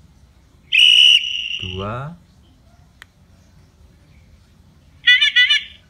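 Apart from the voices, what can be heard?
Rockbross electric bicycle bell tones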